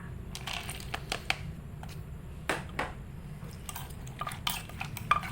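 Thai papaya salad being stirred with roasted peanuts and dried shrimp, a steady patter of light clinks and scrapes of utensil against bowl, close and fairly quiet.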